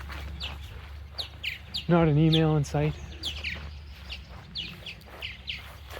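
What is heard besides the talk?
birds chirping outdoors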